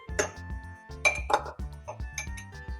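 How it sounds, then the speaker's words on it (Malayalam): A metal spoon stirs a honey and ginger mixture in a glass, making repeated bright clinks and scrapes in an uneven rhythm, close and clear, with no voices. "നന്നായിട്ടൊന്ന് ഇളക്കി കൊടുക്കാം."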